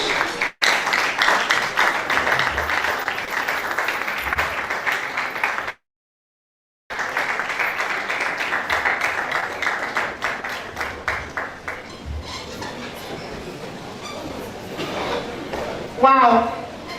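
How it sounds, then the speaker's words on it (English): A seated audience stands and claps for a guest speaker at a formal gathering: sustained dense applause that briefly cuts out, then resumes and thins to scattered claps before a final louder flurry. "can we all be upstanding and give a round of applause for our guest speaker, Mrs. Badejo."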